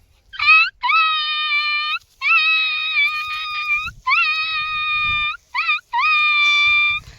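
A voice imitates a beaten puppy whimpering, producing a series of five or six loud, drawn-out high whining cries with short gaps between them, close and clear.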